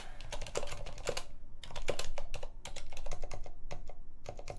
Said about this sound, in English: Keyboard.